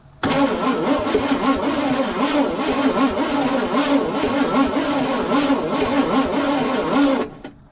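An old IH pickup engine that has sat for almost 30 years cranks without catching, its starter giving a steady, rhythmic churning for about seven seconds before cutting off, loud and near.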